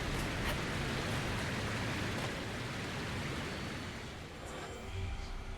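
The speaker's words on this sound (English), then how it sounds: "The waterfall's so loud." Dense, constant rushing of a loud waterfall in the video game Dragon Age: Inquisition, a broad hiss that eases slightly near the end, with a few faint game sounds over it and no speech.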